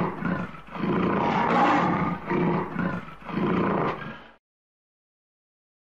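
A lion roars in a series of about four deep, rough pulses that swell and fade, loud and close, ending abruptly in silence.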